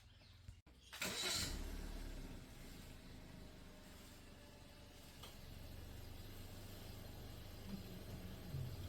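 A 2018 Suzuki Swift RS engine cranks and catches after a brief click, then settles into a steady, quiet idle that runs on without speech.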